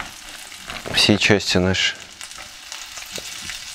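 Floured pike pieces dropped into a hot frying pan, giving a steady sizzle throughout while a person speaks over the first half.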